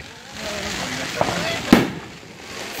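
A 16-shot firework rack goes off outdoors, with two sharp crackling bursts about half a second apart over a steady background hiss while voices murmur nearby.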